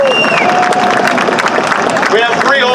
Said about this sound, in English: Let's have a round of applause for the Paterson Municipal Council